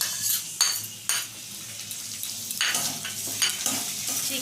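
Ginger, garlic and onion paste frying in hot oil with chicken, a steady sizzle broken by several scraping stirs of a utensil against the pan, close and moderately loud, no talk.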